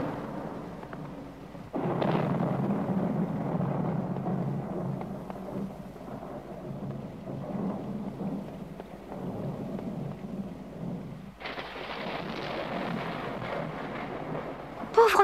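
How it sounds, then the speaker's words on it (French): Heavy rain and rolling thunder fill the air, with a loud crack of thunder early on and another surge of storm noise near the end. "Pauvre Miaou, tout seul au grenier, il doit être effrayé par l'orage"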